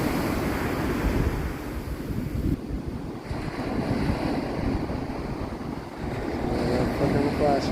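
Ocean surf rolls onto the beach at Anastasia as the tide comes in, a loud continuous roar of breaking waves with wind buffeting the microphone and a few voices now and then.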